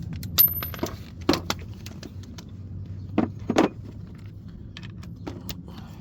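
A socket and extension clink and rattle in a few sharp metallic bursts during clutch replacement work on a third-generation Mitsubishi Eclipse, near and fairly quiet against a low background hum, with no voices.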